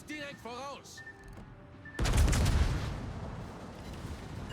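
Warship secondary guns in World of Warships open up in a loud, sustained barrage of overlapping booms after a quieter first two seconds with a brief voice and tonal game sounds.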